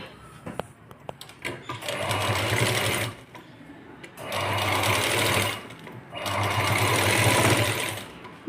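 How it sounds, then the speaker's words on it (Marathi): A sewing machine runs along the side seam of a boat neck blouse in three loud, close bursts of steady whirring, broken by brief pauses and a few clicks at the start. "आता आपण इथे शिवून घेऊया ही बाजूनी"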